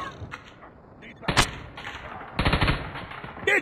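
An M4 LMG light machine gun in Call of Duty Mobile fires short, close automatic bursts, one brief volley and then a longer rattling stream, with faint game sounds around them.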